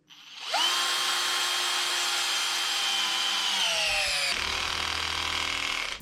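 A Parkside PBSA 12 D2 cordless drill-driver at its maximum torque setting drives a large, thick screw into wood. It gives a loud, steady motor whine for about five seconds, then the pitch drops as it bogs down near the end.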